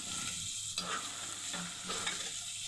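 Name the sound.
beef pieces frying in a pan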